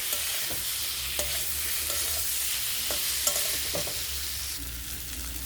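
Green papaya and potato pieces frying with spice masala in a pan: a continuous close sizzle broken by repeated sharp clicks and scrapes of a spoon stirring, with no talk.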